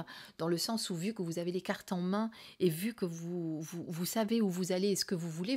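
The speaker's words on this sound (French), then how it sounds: "c'est très agréable parce qu'il y a les cigales qui chantent" Cicadas trill outdoors on a summer day in a steady high buzz, faint beneath a woman's continuous close speech.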